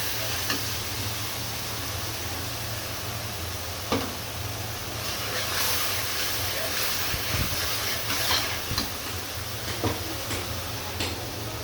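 Large river rohu fish fries in oil as a little ginger paste goes in, giving a steady close sizzle with intermittent stirring scrapes and soft pops throughout.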